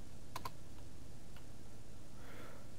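Keys clacking on a computer keyboard while code is typed in a programming tutorial, a few quick isolated clicks over steady background hiss, quiet and close.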